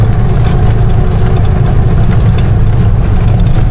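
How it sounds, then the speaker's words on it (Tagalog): A Bajaj RE tricycle engine runs steadily, its low, constant rumble filling the recording up close with no talk over it. "Ang tining ng makina."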